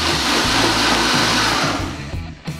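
A stick blender whirring through pea and mint soup in the pan, a loud steady motor drone that holds for about two seconds, then sputters and cuts out.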